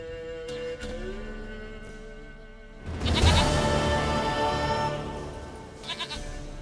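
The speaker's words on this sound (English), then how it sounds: "Goat of mine, dearest, sweetest goat." A goat bleats several times within The Witcher 3, its wavering cries standing clear over a soft game ambience and ringing out loudest in the middle of the stretch.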